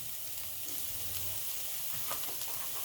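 Chopped ginger frying in a pan, a soft, steady sizzle heard close up and fairly quiet throughout.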